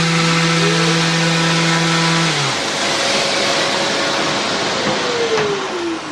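A Festool workshop vacuum with a power tool plugged into it runs as a loud, close, steady rushing roar, while a tonal motor hum fades away early on.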